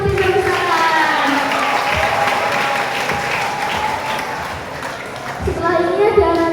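Applause from an audience at a school library team introduction event, steady clapping throughout with children's voices talking and calling over it.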